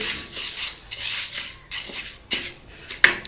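Wheat grains stirred in a hot karahi give a scraping, rustling rattle with sharp metallic clinks, in uneven bursts that get louder and more distinct near the end.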